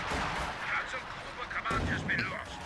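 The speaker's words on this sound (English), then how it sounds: "an artillery strike will seal the fate of this Schwere Panzer HQ. And it goes down." An artillery strike pounds and destroys a building in the real-time strategy game Company of Heroes 2, with rumbling blasts and crashing debris while a commentator talks over the action.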